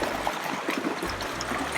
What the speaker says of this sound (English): there's Keyhole Falls, which is like these really cool little waterfalls that have made these keyhole shapes in the ground.